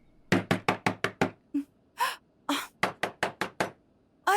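Knuckles rap on a closed door in two bursts of quick, evenly spaced knocks, five to six blows each, loud and close, with brief breaths or rustles between the runs and no talk over them.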